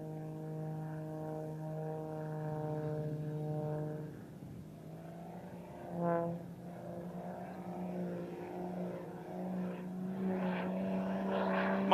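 Droning propeller engine of an aerobatic airplane at a naval air station air show, a steady buzzing hum that shifts pitch and swells as the plane maneuvers, moderately distant.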